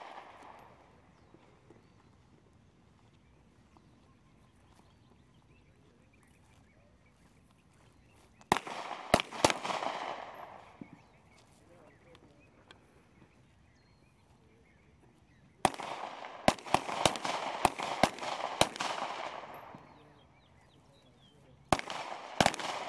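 Rifle fire on a military firing range during a soldier competition, sharp loud shots in two rapid clusters with a lone report near the end, separated by quiet stretches of faint ambient noise.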